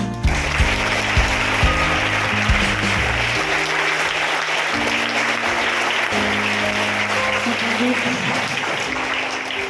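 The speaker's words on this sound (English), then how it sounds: "Give a loud applause." Students clapping at a school assembly, a continuous crowd of hand claps at steady loudness, with a low droning hum and shifting tonal noise running underneath.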